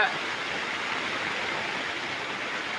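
Heavy first monsoon rain pours down steadily over a village, a dense, even roar of falling water that stays loud and unbroken throughout with no voices.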